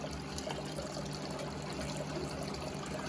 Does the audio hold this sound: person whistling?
no